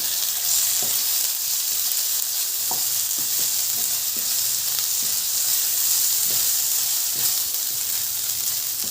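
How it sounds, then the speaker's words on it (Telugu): Ginger garlic paste frying in a pan while a prawn curry is being made, giving a steady close sizzle and hiss with scattered small pops and the odd stir throughout. "అల్లం వెల్లుల్లి పేస్ట్. కొంచెం ఫ్రై చేసుకుని"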